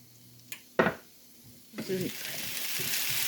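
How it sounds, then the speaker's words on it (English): Peppers and onions sizzle in a pan, a steady frying hiss that swells after a couple of sharp clatters and then continues evenly, close and moderately loud. "While the peppers and onions are cooking"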